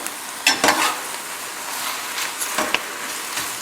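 Sautéed spinach with onions in a pan with the flame just shut off, giving a steady soft sizzle and hiss with a few sharper scrapes and stirring clicks, close up and without speech.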